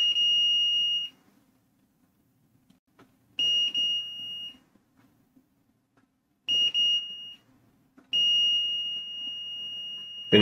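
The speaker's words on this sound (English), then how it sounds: "multimeter in the beep mode" A multimeter in continuity mode beeps while probing a relay on a Nintendo Switch OLED console board, giving four steady, piercing tones of about one second each, separated by short silences, with faint workbench handling between them.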